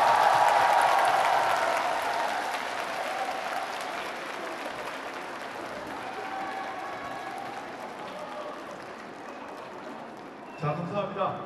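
A large crowd applauds the KB Stars basketball team's championship win, sustained broadband clapping that starts loud and slowly thins, with a brief burst of other sound near the end.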